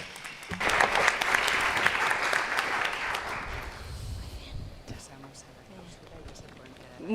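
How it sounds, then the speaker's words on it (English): Conference audience applauding panelists at a gender equality policy event, a burst of clapping lasting about three seconds that fades into room noise, with speech nearby. "An applause for our panelists."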